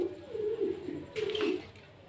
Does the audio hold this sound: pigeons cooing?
yes